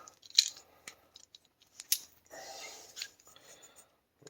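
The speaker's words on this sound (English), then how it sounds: "And we're going to take the other part of this tool. I'm going to ream it out." A reamer tool scrapes inside the end of a copper pipe in short, crisp metallic rasps and clicks, a few separate strokes close up in a quiet room.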